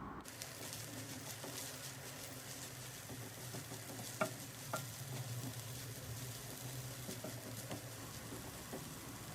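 Nali leaf greens fry in a pan with a few fried chilies added, a soft steady sizzle with faint stirring scrapes and a couple of small clicks, no voices over it.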